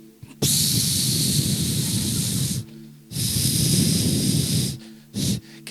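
A voice imitates snoring: loud, close, rasping breaths drawn out in two long snores and a short final one, with brief pauses between.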